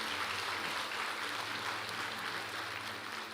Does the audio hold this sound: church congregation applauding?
yes